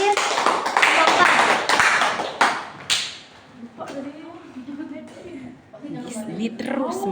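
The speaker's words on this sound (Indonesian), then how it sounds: "tepuk tangan untuk kelompok 3" A class of students claps for a presenting group: a few seconds of quick, fairly close clapping that tapers off, followed by a teacher talking.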